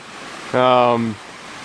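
Steady rushing water of a muddy travertine waterfall in Falls Ridge Preserve, Virginia, roars in the background while a voice briefly speaks over it.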